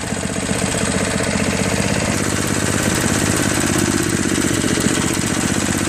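A Craftsman 5HP 24-inch dual-stage snow blower engine runs steadily at high throttle: a loud, close, buzzing small-engine drone with a rapid, even chatter that holds constant throughout, with no speech.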